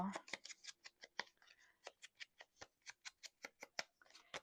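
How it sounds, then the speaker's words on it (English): Scissors cutting paper in a straight line for an art journal pocket: a quick, even series of about twenty crisp snips, close and fairly quiet, with almost no talk. "How about cut a straight line, Jody?"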